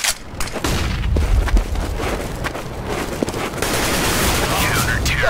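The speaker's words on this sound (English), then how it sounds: "I'm throwing a flashbang." A flashbang grenade in a video game goes off amid loud gunfire bursts, a sharp blast followed by a ringing hiss, with a voice briefly heard near the start.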